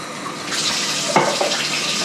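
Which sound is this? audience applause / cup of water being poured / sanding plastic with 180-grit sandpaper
cup of water being poured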